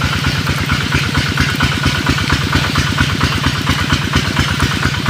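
A small motorcycle engine running steadily on a rough rural road, a loud, close, rhythmic chugging that holds constant throughout with no talking.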